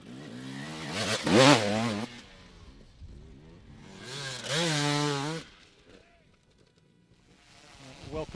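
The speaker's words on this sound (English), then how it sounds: "now we're just with Billy Bolt, who's coming in to take the race win at H2O 2018." Enduro motorcycle at the H2O 2018 extreme race, engine revving in two loud rising bursts close by with quieter idling between and a faint third rev at the end.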